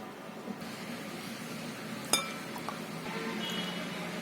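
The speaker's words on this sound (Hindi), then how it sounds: "अच्छी तरह से मिक्स कर देंगे और इसे कर लेते हैं हम डिश आउट" Mutton bone curry being served into a dish: a single sharp clink of utensil against the dish, with a few softer taps and light handling noise afterward, fairly quiet, no talk.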